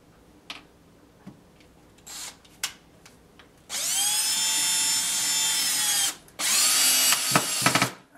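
A power drill drives 1-inch screws into a board to anchor a sculpture armature, with two long sustained whirring runs after a few light knocks, loud and close with no talking.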